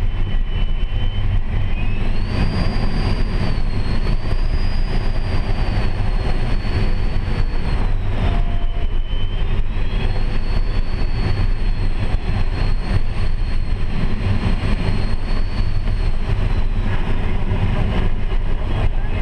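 Steady, loud rush of airflow inside a glider cockpit in flight, with a continuous broadband hiss and a faint high whistling tone that rises and falls slightly, no voices.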